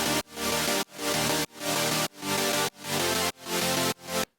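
Bounced saw-stack synth chords from Serum, arpeggiated in a chord setting, play as seven loud, sustained, buzzy pulses in a steady rhythm, with short gaps between them and no voice.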